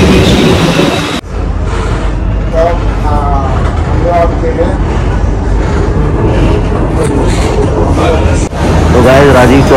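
A metro train rumbles into the station with a loud, steady roar, while people talk nearby over the noise.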